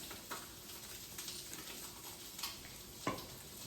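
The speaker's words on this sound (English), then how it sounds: "Frying up so nicely in their peppers" Low, steady frying hiss of eggs frying in pepper rings in a pan, with occasional soft pops and clicks, fairly quiet and close, no talking.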